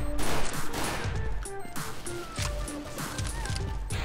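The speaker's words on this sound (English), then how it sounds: "Don't actually shoot at them, guys. I'm shooting straight up." Gunshots fired straight up in Counter-Strike: Global Offensive, a series of sharp cracks spaced irregularly over steady game ambience with faint tonal beeps, fairly close and moderately loud.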